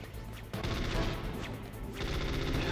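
Sustained video-game gunfire from a Metal Gear Solid boss fight against Psycho Mantis, a dense, continuous rattle of rapid shots that swells after a brief quieter start and stays loud, with a short lull before resuming.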